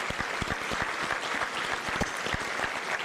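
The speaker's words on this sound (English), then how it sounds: "Ladies and gentlemen, a hand of applause for our panelists." Audience applause for conference panelists at a renewable energy conference and expo, a steady dense clapping throughout with sharp individual claps close by, loud and continuous without talk.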